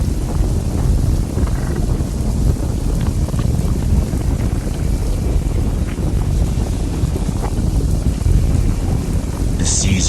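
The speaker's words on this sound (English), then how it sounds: "Suddenly, a loud rumbling sound filled the air, and the ground beneath our feet began to shake violently." A loud, continuous low rumble with wind-like roaring and buffeting runs throughout as the ground shakes, dense and steady with no clear pauses.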